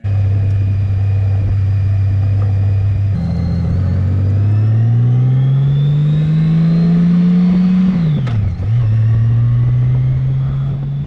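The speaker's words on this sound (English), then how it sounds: "So Daryl has made the crazy decision to let me ride his bike." A Honda Valkyrie motorcycle with its Goldwing-derived engine accelerates hard and close by. Its steady revving drone climbs through several gear pulls, drops sharply at a shift, then settles into a strong cruising hum.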